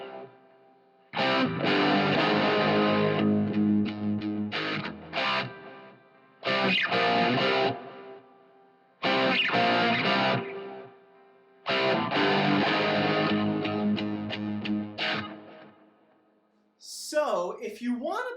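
Distorted electric guitar plays a song's verse in loud, punchy riff bursts separated by short gaps, with a brief squealing slide at the end.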